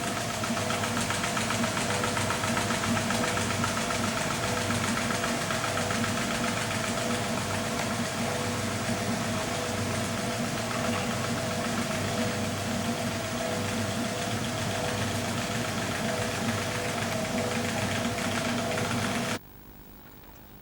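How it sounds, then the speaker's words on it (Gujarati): A Baby Prince domestic flour mill runs steadily, driving an ice cream maker beside it, a continuous droning motor hum with a knocking mechanical rhythm that cuts off abruptly near the end. "ઘંટીની બાજુમાં આઈસ્ક્રીમ મેકર મૂકો અને ઘંટી ચાલુ કરો"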